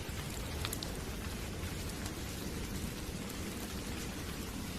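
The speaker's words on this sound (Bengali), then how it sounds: "ঝমঝম করে মুষলধারে বৃষ্টি।" Heavy rain pours down in a dense, steady roar, a cartoon sound effect of a downpour that fills the whole stretch evenly with no voices.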